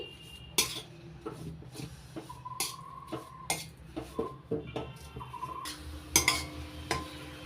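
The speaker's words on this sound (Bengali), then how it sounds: "এবার নাড়াচাড়া করে নারকেল কোড়ার সঙ্গে গুড় মিশিয়ে নিচ্ছি।" Grated coconut and cane jaggery are stirred in a pan, with repeated scraping clinks of a utensil against metal at an uneven pace and a faint background hum.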